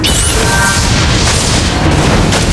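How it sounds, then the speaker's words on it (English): A turret is destroyed in Mobile Legends: Bang Bang, bursting into a loud, dense booming explosion that fills the whole stretch with sustained roar and crackle. "Our turret has been destroyed!"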